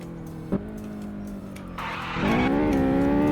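A tuned Mitsubishi Lancer Evo X engine on a race track holds a steady droning note, then climbs loudly as the revs rise near the end, close and continuous, with no talking.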